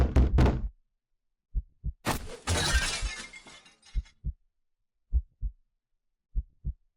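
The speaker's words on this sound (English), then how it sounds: "the sound of the door being ripped off its hinges, followed by a loud crash against the wall on the other side of the room" A door is ripped off its hinges and slammed against a wall: heavy bangs, then a loud splintering crash, followed by sparse, spaced low thuds in near silence.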